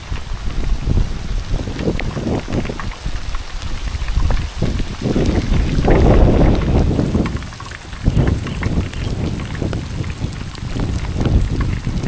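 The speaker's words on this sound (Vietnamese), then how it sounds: "bây giờ mưa nặng hạt luôn rồi cô chú anh chị các bạn ơi." Heavy rain pours over open rice fields in the countryside, a dense steady hiss with gusts of wind buffeting the microphone, swelling louder midway through, with no talking.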